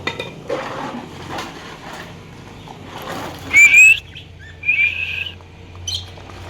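Pet parrots and lovebirds chirp in short sharp bursts while their cage is cleaned at home, with clinking dish-like clatter and rustling between the calls.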